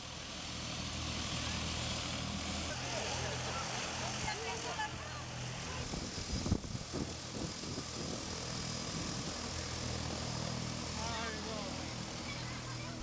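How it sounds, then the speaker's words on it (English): A small propeller plane arrives at the Motu Lava airstrip in Vanuatu, its engine a steady, broad drone that holds throughout and swells briefly midway, with distant voices underneath. "On Motu Lava, the plane comes 3 times a week."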